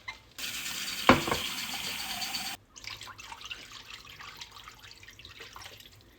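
Cool tap water pours steadily from a faucet into a container for about two seconds, then stops, followed by softer dripping, sloshing and handling sounds close by.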